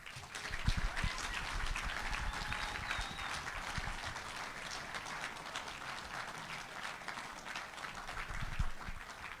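Crowd applause for the new champions at a national shootout final, sustained dense clapping at moderate distance with a few louder claps near the start and end.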